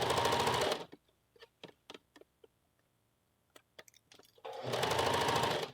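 Short bursts of a sewing machine stitching a puff sleeve into a blouse seam: a loud whirring run, a quiet stretch of sparse ticks and clicks, then another strong run.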